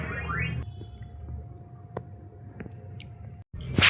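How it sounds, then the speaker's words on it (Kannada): A young girl eats ice, making soft, wet chewing and squishing sounds close to the mic in a quiet room, with a few sharper bites and a brief noisy burst at the end. "ಯಾವ ಥರ ತಿಂತಿದ್ದಾಳ ನೋಡಿ."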